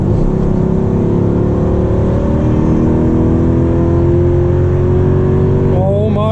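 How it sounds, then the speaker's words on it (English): An AMG car engine revs hard at full throttle, a loud, continuous rising drone with engine harmonics sweeping upward as it accelerates, close and dominant throughout. "See how full throttle feels."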